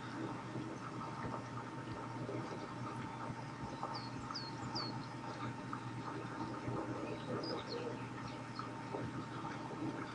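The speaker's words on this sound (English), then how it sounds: "If you listen carefully, you can hear the birds and stuff in the background" Background ambience from the off-road driving game Spintires, with a few faint bird chirps and calls scattered over a steady low engine hum that runs throughout.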